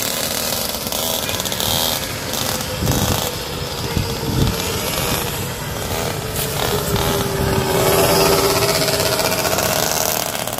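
Polini 911 6.2hp mini motorbikes race on a street, their small two-stroke engines whining loudly and buzzing nearby, pitch rising and falling as they pass and rev, with no talk.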